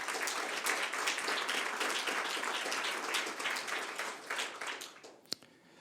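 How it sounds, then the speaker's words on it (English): A round of audience applause for participants at a scientific conference in Edinburgh, dense clapping that holds steady and then thins out toward the end, finishing with a single sharp clap. "start with another round of applause initially for just all participants,"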